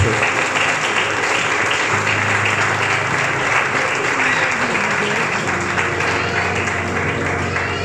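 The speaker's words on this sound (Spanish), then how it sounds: "Vamos a darle un aplauso a la hermosa palabra de Dios esta noche." A congregation applauds during an evening church service, dense sustained clapping from a large crowd filling the room at steady volume from start to finish.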